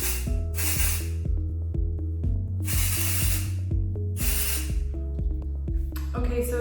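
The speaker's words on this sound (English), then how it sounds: "now I'm going to spray it again with the texture" Texture spray hisses onto hair in four loud bursts, each about a second long, set against a steady background of faint rhythmic clicking.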